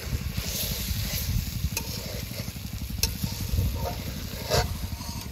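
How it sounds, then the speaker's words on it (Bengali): Fish being sautéed in a pan, a steady loud sizzle and hiss of frying with stirring scrapes throughout, close up and continuous. "আজকেও আমাদের মাছ কষানো হচ্ছে"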